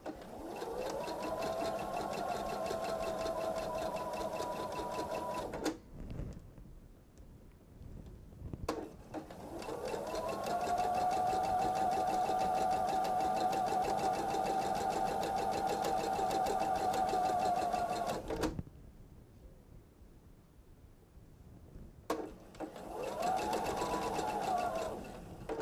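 A sewing machine runs long steady stitching passes on a seasonal bench pillow, loud and close, in three bursts separated by brief pauses with quiet handling of fabric between them.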